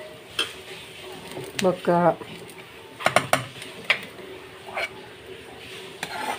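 Onions sizzle in a pan under a quiet hiss while a utensil clatters and scrapes against the metal in scattered knocks, with a brief spoken word.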